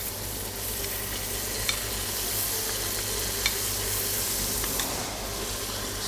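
Ginger garlic paste sizzling in a hot pan for a chicken drumstick curry, a steady soft hiss of frying with a few faint clinks of stirring, fairly quiet and with no talk.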